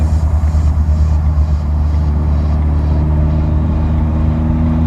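Volkswagen GTI engine running close by, a steady loud mid-range drone with a faint rising whine, no voices.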